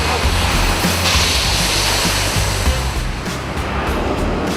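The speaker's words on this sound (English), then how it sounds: "This is a pasta factory, and all these machines mean it's very noisy." Dense, loud pasta factory machinery roars continuously, a broad wash of mechanical noise with rattling undertones and no pauses.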